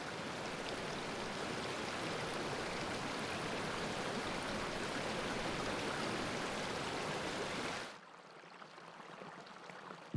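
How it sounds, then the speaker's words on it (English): Small freshwater streams running off hills toward an Arctic fjord, a steady, full rushing of flowing water that holds evenly for about eight seconds before dropping suddenly to a much quieter background. "It flows off the hills as small streams and is carried back into the fjord."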